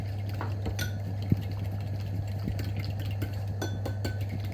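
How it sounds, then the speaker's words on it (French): Flour and water are stirred into a paste in a bowl with a utensil, giving continuous soft scraping and scattered light clinks against the bowl, close up over a steady low hum, with no talk. "je vais y rajouter de l'eau. Et bien mélanger jusqu'à ce que ça fasse une petite pâte."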